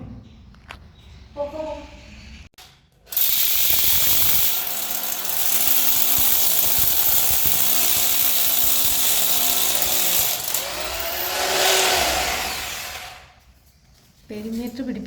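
A power drill whines loudly and steadily for several seconds while holes are bored and screws are driven to fix a ceiling perimeter at height, with short pauses and faint voices around it.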